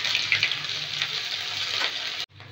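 Bay leaf, ginger and cumin sizzling in hot oil, a steady loud frying hiss with faint stirring scrapes, close up, cutting off abruptly near the end before resuming softly, with no talking.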